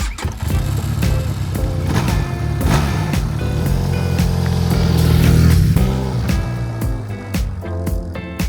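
A Benelli TRK502x adventure motorcycle rides along, its engine droning steadily and swelling louder midway before easing off, with no talking.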